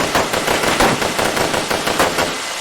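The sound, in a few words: gunfire in an anime battle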